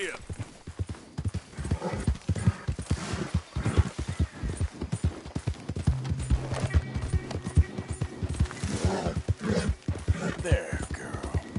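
A horse gallops in Red Dead Redemption 2, its hooves clip-clopping in a steady, loud rhythm throughout, with occasional whinnies and someone talking over the riding.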